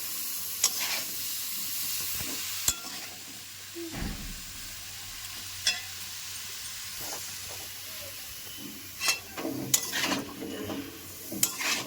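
Cauliflower with peas, stalks and potato is stirred into spices in a kadai, giving intermittent scraping stirs and clatters over a soft, steady sizzle, with no talk.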